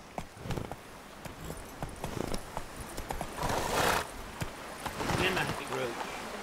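A horse in a video game gallops with quick clip-clop hooves under close, loud talk, then gives a shrill neigh partway through.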